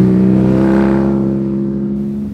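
A BMW R nine T with a 1200cc boxer twin engine revs steadily, a loud, close, sustained drone that holds its pitch and then fades slightly toward the end.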